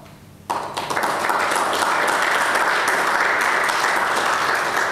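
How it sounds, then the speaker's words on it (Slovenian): Applause from a conference audience at a Slovenian renewable energy and efficiency conference breaks out suddenly after a quiet moment, then holds as a loud, dense, sustained wash of clapping. "aplavz"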